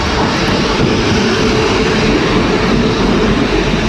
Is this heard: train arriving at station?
yes